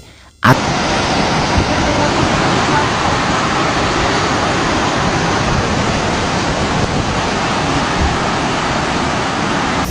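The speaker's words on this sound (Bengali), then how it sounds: "Hay que mirar cómo baja aquí el agua." Floodwater rushing through town streets during a flood in Spain, a loud, steady broadband roar that starts abruptly and continues unbroken, close to the microphone.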